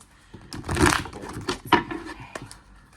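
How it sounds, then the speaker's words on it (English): Tarot cards being shuffled by hand, giving a run of papery riffling and crinkling bursts with a few sharper slaps, close and fairly quiet with no voices. "let me just shuffle this one more time."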